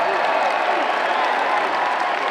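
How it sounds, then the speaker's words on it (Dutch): A big audience applauds steadily at the opening ceremony of the Special Olympics in Breda, a constant, even wash of clapping with some crowd noise and no gaps. "Groot applaus voor al diegenen die hier aan strijden hier"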